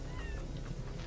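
A cat meows inside a video game, a faint brief electronic-sounding call over a low steady background hum, with no talk.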